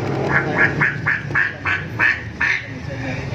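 A voice imitates a duck quacking during a children's story about animals on a wide farm, with about nine quick, evenly spaced quacks over a low steady background.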